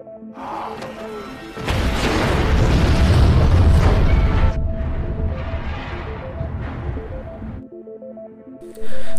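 Dynamite blows up a bridge in a film: a sudden massive boom rolls into a long, loud rumbling roar that fades into debris noise.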